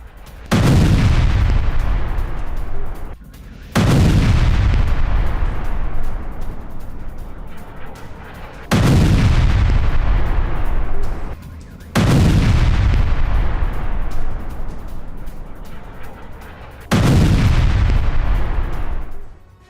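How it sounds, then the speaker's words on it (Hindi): Russian missile strikes on Kyiv: five heavy, booming explosions in news footage, each a loud sudden blast followed by a long rumbling decay, spaced a few seconds apart with no talk. "रूस ने कीव पर दागी कई मिसाइलें।"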